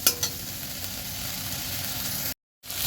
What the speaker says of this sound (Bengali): তো আলুটা অনেকক্ষণ ধরে কষাচ্ছি